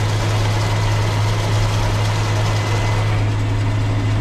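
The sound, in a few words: tractor engine running while spreading lime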